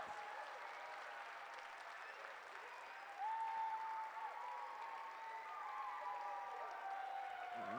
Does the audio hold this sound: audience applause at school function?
yes